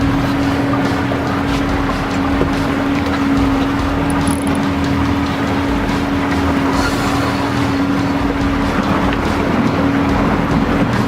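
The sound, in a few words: motorboat engine accelerating while fishing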